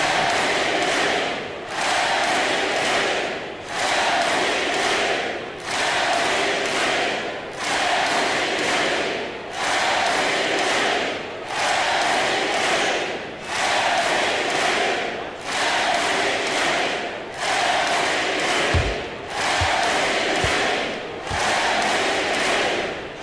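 A home arena crowd in an NBA 2K24 basketball game roars in repeated rhythmic swells, a loud continuous cheer rising and falling in waves, with a few dull thumps near the end.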